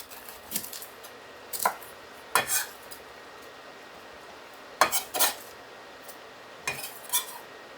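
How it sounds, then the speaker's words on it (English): Knife chopping through half a cabbage head on a board, several sharp separate knocks with uneven gaps, close and fairly crisp, no voices. "I need room to cut the other half of the head. We'll just put that in there like that. And I'll press on cutting this."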